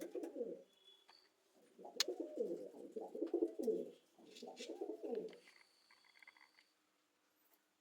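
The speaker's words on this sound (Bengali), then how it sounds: "এই পায়রাটা দেখুন বন্ধুরা" Madrasi pigeons cooing in a loft, four throaty rolling coo phrases in a row with short pauses, close and clear, with faint chirps in the background.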